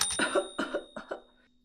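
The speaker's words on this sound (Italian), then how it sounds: "di notte tossisco" A person coughs at night while ill with a headache and a blocked nose, giving four short, close coughs in quick succession that trail off into quiet.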